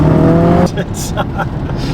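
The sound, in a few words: mother's 305 horsepower car accelerating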